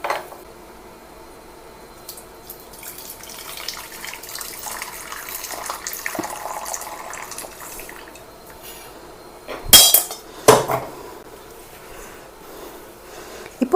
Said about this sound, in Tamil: இப்போ இதை நம்ம வந்து வடிகட்டிக்கலாம்.